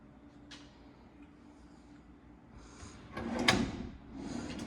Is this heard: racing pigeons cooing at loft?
no